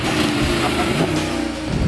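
A Mercedes-Benz SLS AMG with its 6.2-liter V8 is driven hard, a loud, close engine roar with rising revs over a short burst.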